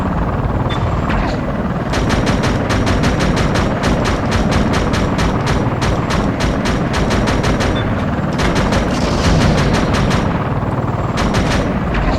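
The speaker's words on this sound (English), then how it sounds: "Let's go ahead and just destroy this tank and destroy everything else that shows up." Rapid, loud bursts of gunfire from Thunderstrike: Operation Phoenix on PS2 strike a tank in the video game, repeating in quick regular volleys over a constant heavy engine rumble, with no speech.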